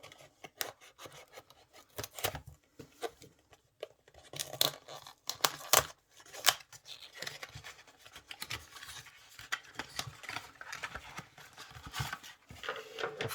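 Opening the packaging of a Yu-Gi-Oh! Freezing Chains structure deck, with irregular close crinkling, tearing and rustling of plastic and cardboard in bursts between quiet pauses.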